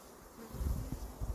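Honey bees buzzing at a beehive during a summer inspection, a soft, close hum that swells in low pulses over a brief moment.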